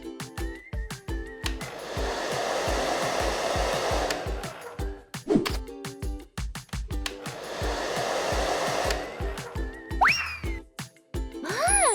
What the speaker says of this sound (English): Mommy Longlegs use a hairdryer to dry Pinkie Pie's hair